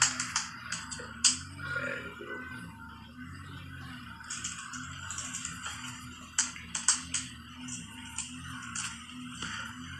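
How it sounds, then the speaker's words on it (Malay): Irregular clicking of keys on a computer keyboard, quiet and close, with soft music humming steadily underneath. "Pakai keyboard ni korang."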